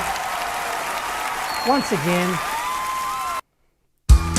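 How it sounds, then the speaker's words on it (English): Sustained crowd applause rolls on as a dense wash of clapping while a voice speaks briefly over it, then it cuts off abruptly to silence. "the adoring fans, the screaming, the applause is because of you"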